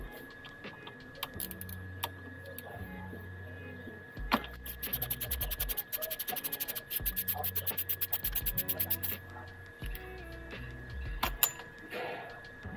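Brake pad pin screw on a Hero Xpulse 200 motorcycle being turned out with a 5mm Allen key: close, small metallic clicks and scraping ratchet-like ticks in quick bursts, separated by quieter pauses and light handling noise.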